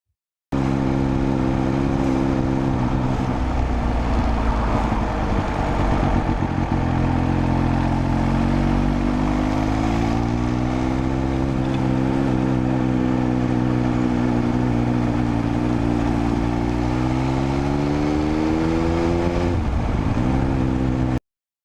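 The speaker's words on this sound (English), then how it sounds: "listen to what the engine's doing" A motorcycle engine drones steadily while riding, its pitch rising and falling as the throttle changes, loud and continuous with no voices.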